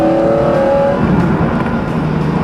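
A roughly 16-year-old sports car engine revs loud and close, a sustained throaty rise with shifting pitch.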